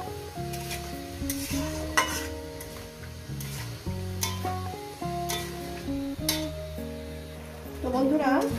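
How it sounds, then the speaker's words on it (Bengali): Tomato stir-fried in a pan over a medium gas flame sizzles steadily while a utensil scrapes and stirs, with music playing throughout. "দেওয়ার পর আমি এটাকে প্রায় 2 থেকে 3 মিনিট মিডিয়ামে গ্যাসে কষিয়ে দিই।"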